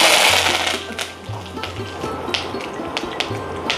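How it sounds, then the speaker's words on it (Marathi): Mustard seeds and curry leaves crackling in hot oil in a pan, a run of small sharp pops and snaps spread unevenly over a low hiss, close and fairly clear. "मोहरी चांगली तडतडते"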